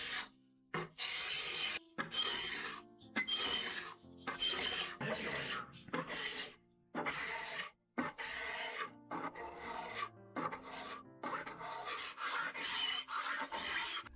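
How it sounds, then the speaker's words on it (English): Repeated rasping scrapes across the oxidation-marked wooden top of a 19th century sideboard, each long stroke separated by brief pauses in a steady rhythm, close and fairly loud with no talking. "I'm just going to scrape down the rest of the top."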